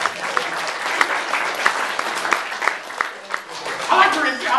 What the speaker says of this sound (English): Let's clap for the monk.